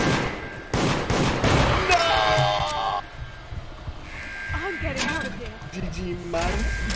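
Shotgun fire in the video game Deceit, heard as several sharp blasts early on amid game sounds and music, with a voice talking over parts of the clip.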